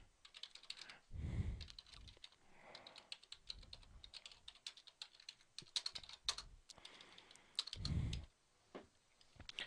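Programming code being typed on a computer keyboard, a quiet, close series of irregular key clicks and taps with short pauses and a few heavier thumps, likely from the space bar.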